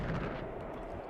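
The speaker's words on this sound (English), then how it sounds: "Does the explosion do more than the impact of the actual arrow?" An arrow explosion in the video game Breath of the Wild gives a brief, dull boom that fills the moment with low rumble, heard alone without talk.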